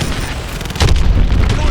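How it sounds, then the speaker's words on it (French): Booming missile explosions and heavy blasts in the Call of Duty Advanced Warfare campaign during an attack on a hydroelectric dam, dense and loud with a fresh impact partway through, mixed with voices. "Verrouille les points cibles et tire dessus avec tes missiles"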